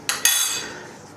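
A metal ice cream scoop and spoon give two quick bright clinks close together, ringing briefly while cake batter is portioned for baby Victoria sponges.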